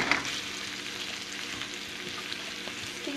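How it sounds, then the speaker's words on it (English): Roasted potatoes being tossed with spices to coat them, a soft continuous close scraping and rustling of mixing with a faint sizzle-like hiss, with no talk. "Let's give it a good mix so that we get all that spices to coat."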